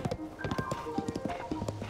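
Horse hooves clip-clop at a steady trotting rhythm in The Legend of Zelda: Tears of the Kingdom, fairly quiet with a few faint tonal game sounds mixed in.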